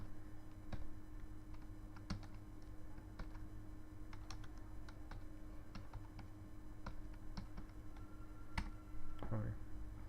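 Quiet, scattered keystrokes on a computer keyboard, isolated clicks spaced irregularly over a steady background hum, faint and close.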